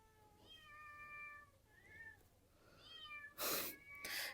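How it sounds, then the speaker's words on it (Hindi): Several drawn-out cat meows, a few in quick succession, followed by two short bursts of rustling noise; fairly close but quiet. "क्या म्याऊ म्याऊ, जो हमारा कल्लू है ना"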